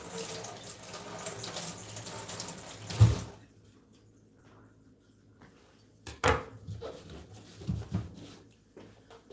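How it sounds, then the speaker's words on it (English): A kitchen knife is rinsed under a running tap, starting with a steady stream of water. It cuts off, and a few clunks and short splashes follow. "Let me rinse that knife off again."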